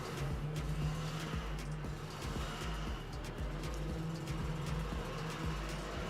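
Junior Formula Blue racing karts lap a circuit in a 3-lap practice session at a kart club championship, their buzzing two-stroke engines droning steadily and fairly distantly with a sparse few karts on track.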